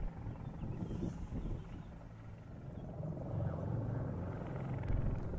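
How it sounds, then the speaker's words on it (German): A low, steady helicopter rotor drone rumbles at a distance as the helicopter slowly climbs 300 metres uphill in the Schwarzleotal valley, swelling a little louder toward the end. "Nur langsam arbeitet sich der Helikopter die 300 Höhenmeter nach oben."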